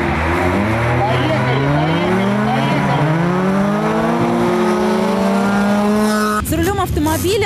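A race car on a frozen ice track revs hard with a loud, rising engine whine through the gears, then a sharp shift to a rougher, crackling burst at the end, heard from close by with no voices.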